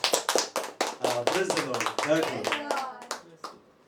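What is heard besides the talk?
congregation clapping for the Lord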